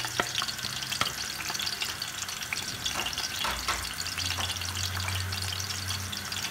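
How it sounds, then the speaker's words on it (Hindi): Onions frying in hot ghee for a biryani sizzle and crackle steadily up close, with occasional stirring clatters and a low hum in the background. "घी को गर्म करके इसके अंदर हम प्याज डाल देंगे।"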